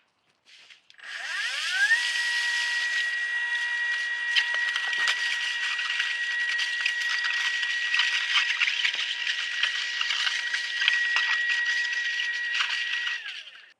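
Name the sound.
Milwaukee MX Fuel 24-inch walk-behind edging trowel running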